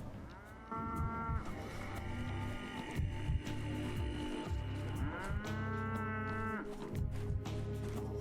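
Cow in the video game Pathologic 3 letting out two long, deep moos separated by a pause, over a low ambient hum and scattered game noises, with no speech.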